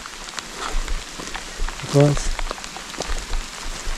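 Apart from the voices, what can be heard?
heavy rain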